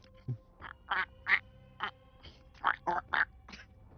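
A person tries to imitate a pig grunt but produces a string of nasal duck-like quacks, about nine short bursts in an uneven rhythm, close to the microphone with quiet surroundings.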